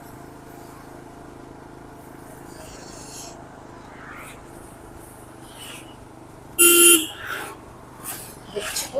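A car horn sounds in a couple of short, loud blasts after a quiet stretch of engine hum on a forested Darjeeling road, with a brief spoken word nearby.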